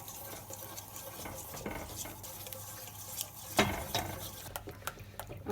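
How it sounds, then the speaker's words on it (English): Sauce is stirred in a saucepan with a lip as butter is slowly worked in, giving soft continuous scraping and swishing under a low cooking hiss, close and quiet, with a sharper knock near the end. "Lots of stirring."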